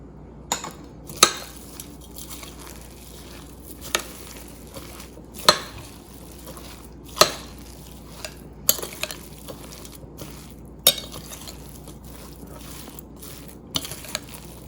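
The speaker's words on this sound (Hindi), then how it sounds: "अच्छी तरह मिक्स कर लें ताकि सारे स्पाइसेस ऑल मिक्स हो जाएं इसमें।" Minced chicken being mixed with soy sauce, salt and spices in a bowl, a string of sharp utensil clinks and taps every second or so over a quiet background, no talk.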